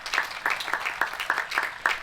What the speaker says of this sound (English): Can we please give them a huge round of applause for their past years of work?